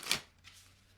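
A single quick riffle of oracle cards, a short papery burst followed by faint rustling, close up and fairly quiet.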